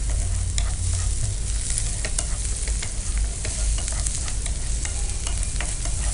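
Garlic and onion frying on a stove as they are stirred, with a loud continuous sizzle and repeated utensil scrapes against the pan, no talking.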